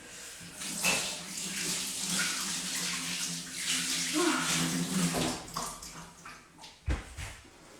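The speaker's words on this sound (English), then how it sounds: "Just washing my hands, peeps." Hands are washed under a running tap, a continuous close splashing wash of water that lasts most of the stretch, then cuts off, leaving a few thuds and drips.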